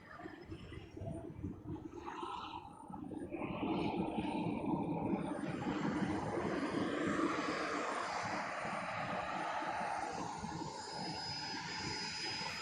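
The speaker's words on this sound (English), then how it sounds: "Jet taxiing in, helicopter departing in the background." An Alpha Jet taxiing in at the Gatineau airshow in Canada, its engine whine and roar swelling and holding loud and close, with a departing helicopter and rain or water noise in the background.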